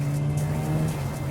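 Mazda FD RX-7 rotary engine held at a high, steady rev on a dyno, a smooth continuous buzzing drone, loud and close, with no voices.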